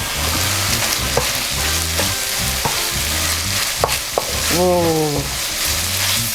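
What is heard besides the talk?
red chili frying in a wok for Kung Pao prawns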